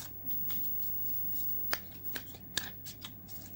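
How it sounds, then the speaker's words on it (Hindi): Oracle reading cards being shuffled by hand, faint close riffling under a low background hum, with a few sharper snaps as the cards slap together. "फिर रीडिंग कार्ड्स निकाल लेती हूँ"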